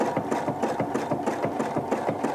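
A sewing machine runs steadily while stitching a Christmas towel, its needle thumping in a fast, even rhythm close up, with no talking over it.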